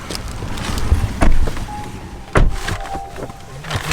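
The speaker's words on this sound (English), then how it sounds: "that's how the Kia sounds when you sit inside. Not sit inside, when you close the door." A Kia car door shuts with two solid thunks about a second apart, heard up close over a steady background hum and faint rustling.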